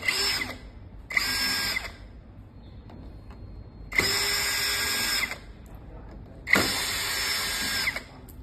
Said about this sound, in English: Use the screwdriver to unscrew the screws on the side case.